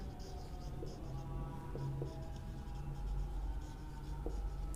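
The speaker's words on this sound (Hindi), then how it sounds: "तो लिख देती हूँ मैं यहाँ पर चेंज्ड" A pen scratching across paper as someone writes by hand, faint short strokes over a steady low hum of room noise, close but quiet.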